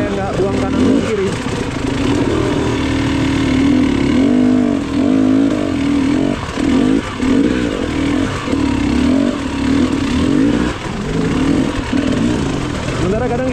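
A motorcycle rides through water on an uncertain surface, its engine a loud, buzzing drone that rises and dips with throttle changes and brief cut-outs, while someone talks over it.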